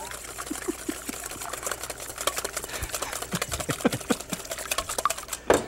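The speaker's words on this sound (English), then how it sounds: "I'm going to take a whisk and I'm going to beat those up pretty good." Two eggs being beaten with a whisk in a bowl, giving rapid, fairly steady clicking and tapping strokes that carry on throughout at moderate loudness.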